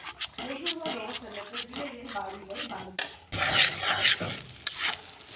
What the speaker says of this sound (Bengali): সর্ষে বাটা দিয়ে তারপর নাড়তে হবে কিছুক্ষণ, ততক্ষণ পর্যন্ত নাড়বো যতক্ষণ না তেলটা ছাড়ে।